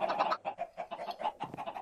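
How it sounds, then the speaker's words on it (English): A chicken in the Minecraft video game clucks in a quick run of short, nasal bursts, close and fairly loud, with no other sound around it. "Ah, stupid chicken."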